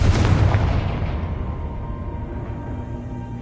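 A Confringo blasting spell from the Hogwarts Legacy video game bursts in a loud, full boom, then trails off into a long rumbling decay with no voices.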